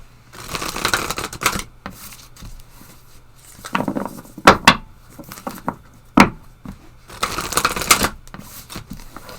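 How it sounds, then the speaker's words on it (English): Moonology oracle cards being shuffled and pulled, heard as several bursts of riffling and sharp card snaps, close and moderately loud with no talking. "we're going to pull a couple of Moonology cards."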